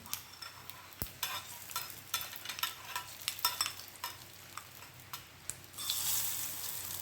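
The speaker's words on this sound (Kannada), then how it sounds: "ಮೆಣಸು, ಸಾಸಿವೆ, ಎಣ್ಣೆಯ ಒಂದು ಒಗ್ಗರಣೆ." A tempering of chili and mustard seeds in hot oil crackles with scattered sharp pops and light clinks, then swells into a brief, louder sizzle near the end.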